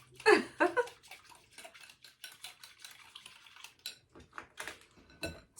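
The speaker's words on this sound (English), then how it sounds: "I'm going to get just this stirred up a little bit" Spoon clinking and scraping in a bowl while stirring apple cinnamon chia pudding, a few sharp clatters at first, then softer irregular taps and scrapes, close by with no talk.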